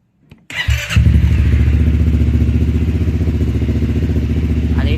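A 2023 Honda Forza 350 Nitron scooter starts up close and loud after a brief click, then settles into a steady, even idle rumble that continues to the end.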